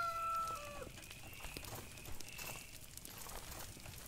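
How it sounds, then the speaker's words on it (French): A rooster in the video game Force of Nature crows once near the start, a tonal call over faint game ambience with scattered clicks, quiet overall. "Le coq il s'énerve."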